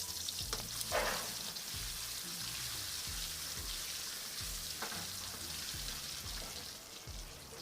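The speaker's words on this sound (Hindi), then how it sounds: "इसी ऑयल में हम फ्राई करेंगे अंडे" Boiled eggs fry in a pan of oil with a soft, continuous sizzle and light spitting, fairly quiet overall, with an occasional louder crackle and a faint pulsing hum underneath.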